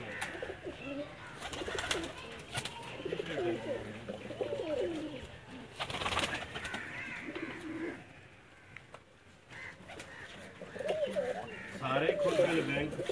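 Lakha pigeons coo close by in a soft, repeated, throaty rhythm under ongoing male speech.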